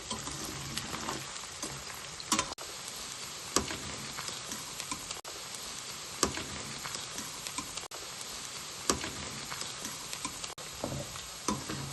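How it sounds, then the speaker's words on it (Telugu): Chicken pieces fry in a pan over a medium flame for chicken pickle, making a continuous close sizzle broken by scraping stirs and small crackles, with no one talking. "స్టవ్ మీడియం ఫ్లేమ్లో పెట్టుకుని వేసుకోవాలి చికెను"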